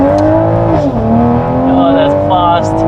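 A 600 hp Toyota GR Supra's engine drones loudly and steadily while held at revs, then its pitch dips and climbs again as the car launches and pulls hard.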